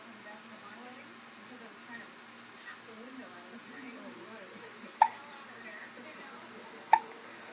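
Newborn baby about a week old hiccuping: two faint, sharp little hiccups a couple of seconds apart against quiet room background, with soft talk nearby.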